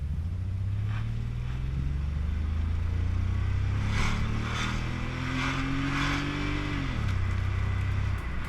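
Classic Volvo with a 2.9-liter inline-six and a leaking head gasket accelerating from a stop, the engine note climbing steadily in pitch through the rev range before dropping sharply at the shift, heard alone.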